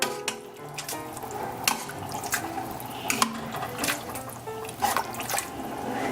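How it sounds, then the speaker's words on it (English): A spoon stirs chicken bone soup in a cooking pot, with soft liquid sloshing and several light clinks against the pot. "Now we'll just stir it all in and bring it to a boil."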